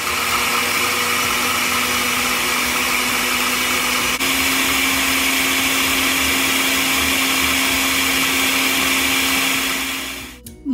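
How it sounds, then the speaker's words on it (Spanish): Blender grinding a red salsa of tomato, garlic, peanuts, salt and a little water, running loud and steady with a constant motor whine for about ten seconds before cutting off abruptly at the end. "voy a molerlo y voy a probarlo."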